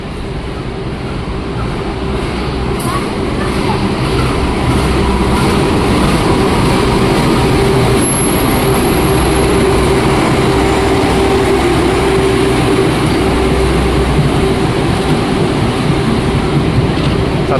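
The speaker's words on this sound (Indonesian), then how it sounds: "selanjutnya kita tungguin nih kereta api Bangunkarta" Bangunkarta passenger train at a Jakarta station, with a power car and four mild-steel executive coaches: loud, steady rumble and roar of the rolling train rising in the first seconds and then holding at a constant, close, broadband level.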